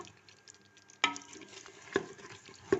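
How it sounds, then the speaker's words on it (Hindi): Mutton is stir-fried with yogurt in a karahi, quiet sizzling broken by three sharp spoon scrapes and knocks against the pan. "इसको दही डाल के भूनना है"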